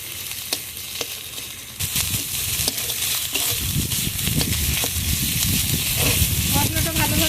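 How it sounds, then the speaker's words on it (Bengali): Ground spice paste frying in a pan for a spicy village-style rui fish curry with cauliflower, a steady close sizzle with soft stirring scrapes that grows louder and denser after the first couple of seconds, with no one talking. "কাঁচা গন্ধ চলে যাওয়া পর্যন্ত মশলাটা ভেজে নেব।"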